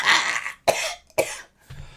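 Three or four sharp, harsh coughs come close together after something went down the wrong pipe, loud and near, ending in a softer throat-clearing sound.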